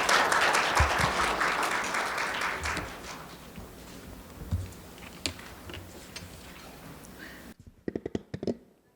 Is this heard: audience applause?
yes